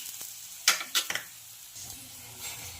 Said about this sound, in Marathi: तर अतिशय खरपूस असा आपला पराठा भाजला गेलेला आहे